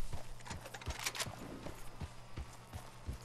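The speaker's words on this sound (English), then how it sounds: "There's horses over there. Look at that." Horse hooves clip-clop at a steady walking rhythm in the video game Red Dead Redemption II, soft thuds repeating about every third of a second over a quiet background hum.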